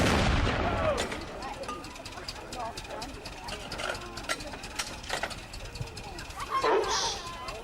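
Artillery guns at Dover Castle fire in a World War Two setting, heavy booms and sharp cracks repeating at intervals, with voices shouting orders between the blasts.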